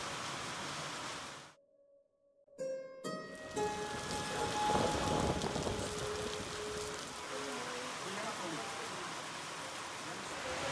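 Rain falls steadily on Eid in Srinagar, Kashmir, a constant hiss that starts after a brief silence, with a few tonal sounds early on and voices talking underneath.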